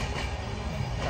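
A passenger train in motion on the Mumbai to Gujarat route, a steady close rumble with broadband rail noise filling the whole stretch, no talk.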